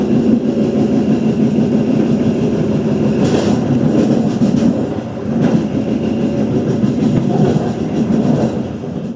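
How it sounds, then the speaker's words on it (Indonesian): The Gumarang passenger train rumbles steadily close by as it arrives at Semarang Tawang station, Indonesia, a loud continuous rolling roar with faint rhythmic clatter from the wheels. "kereta api Gumarang tiba di stasiun Semarang Tawang"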